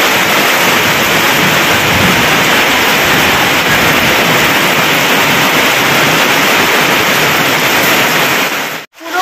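Heavy rain pouring down in front of a house onto a waterlogged street, a loud, dense, unbroken roar of falling water that fills the whole clip before cutting off sharply at the end.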